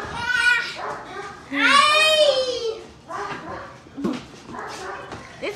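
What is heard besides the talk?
scared dogs whimpering while running around a dog pad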